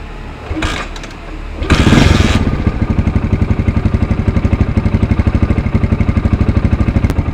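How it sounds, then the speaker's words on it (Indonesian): A motorcycle engine is started after an oil change using Motul 3100 oil, then settles into a steady, rapid idle thump that runs close and loud to the end. "saatnya kita nyalakan motor ini"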